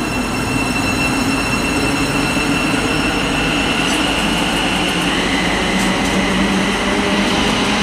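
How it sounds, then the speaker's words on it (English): A train pulls into Stevenage station on the East Coast Main Line, a steady loud rumble of wheels on rails with some faint squealing, close and continuous. "What's also departing is going to be the 11:46 service to Horsham, as that one pulls in."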